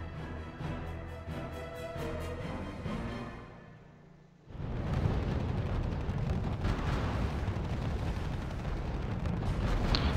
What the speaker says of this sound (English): the first bazookas are hitting their target